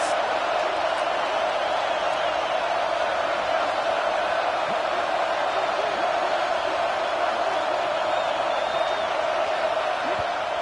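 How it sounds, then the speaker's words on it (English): A loud stadium crowd at a college football game roars steadily during a third-and-goal play in the red zone, a dense, unbroken wall of noise with faint whoops. "this crowd is at fever pitch"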